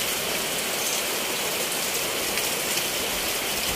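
Heavy rain pours steadily at a motorcycle repair workshop, a dense, loud, unbroken hiss with no let-up.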